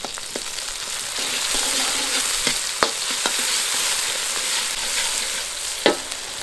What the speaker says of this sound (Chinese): 放入一勺郫县豆瓣炒出红油